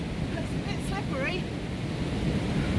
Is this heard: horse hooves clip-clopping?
no